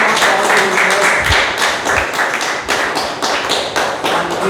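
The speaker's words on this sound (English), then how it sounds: "can we have a big round of applause for all the role players?" Audience applause for the role players at a speaking event, a dense, steady wash of many hands clapping together, loud and sustained throughout with no talk over it.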